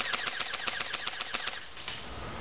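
A CYMA/Cybergun plastic Thompson airsoft gun fires fully automatic on an 8.4 volt battery, giving a rapid, even mechanical rattle of shots that runs steadily for about two seconds close to the microphone before stopping.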